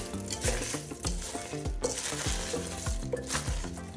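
Cornflakes being stirred into cookie dough in a bowl, with repeated crunchy scraping strokes in a steady rhythm, close and fairly loud with no talking.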